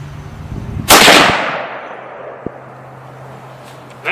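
A single Remington Core-Lokt Tipped .30-06 Springfield rifle shot on a 100-yard range, a sharp loud crack with a long decaying echo, then quiet with a faint click.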